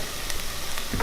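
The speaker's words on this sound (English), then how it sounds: "So I'm going to saute this." Ground spices sautéing in a hot pan for chicken tikka masala, a steady close sizzle with a few brief stirring scrapes on top.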